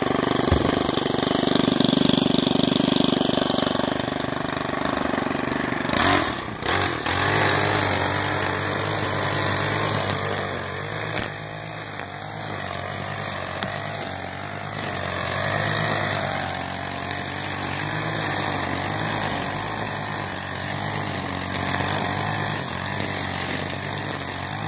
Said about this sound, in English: So I think I can get the mower in some of it.